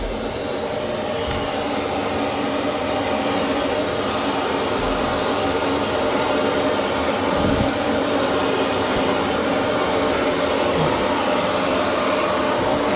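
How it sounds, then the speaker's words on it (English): A vacuum cleaner drones steadily and loudly throughout, a constant close whoosh with no breaks, during sink and toilet cleaning for an end-of-tenancy clean. "And vacuum."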